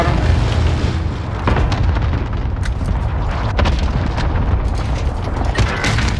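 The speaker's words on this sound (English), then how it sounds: "Allied cluster strike inbound" Cluster-strike explosions in a shooter video game. The booms and crackling blasts go off in rapid, overlapping bursts, loud and close, over a constant rumbling din.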